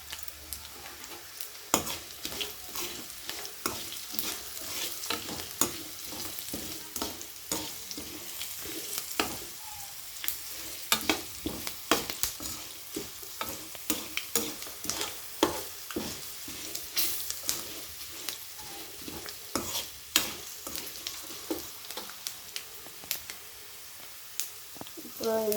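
Tempering spices sizzle in hot oil in a pan for lemon rice made from leftover rice, a continuous crackling fry punctuated by frequent sharp scrapes and clicks of a spoon stirring against the pan, close and fairly loud.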